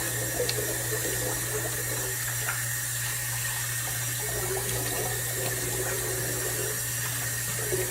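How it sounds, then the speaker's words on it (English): Tap water runs steadily into a sink as a face is rinsed during a wet shave, a constant close splashing hiss with a low hum beneath and faint intermittent knocks, with no talk. "Rinse the face off, go for the third pass."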